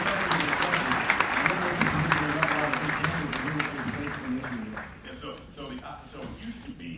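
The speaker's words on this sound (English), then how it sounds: "no, clap it up for that." Audience applause in a large arena crowd at Madison Square Garden, loud clapping mixed with cheering voices that gradually tapers off into scattered claps and crowd murmur.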